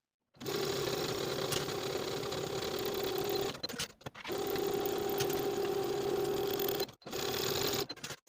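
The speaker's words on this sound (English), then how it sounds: "Sew the shoulders with a 5/8 inch seam allowance" A domestic sewing machine stitches the shoulder seams of a sweater dress with a 5/8 inch seam allowance, running in two long steady bursts and a shorter third, with brief stops between, close and clear with no talking.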